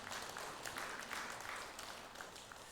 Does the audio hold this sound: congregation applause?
yes